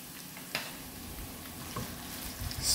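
Pork pieces hit a hot pan and start frying, giving a steady, fairly quiet sizzle with a few brief clatters and crackles rising near the end.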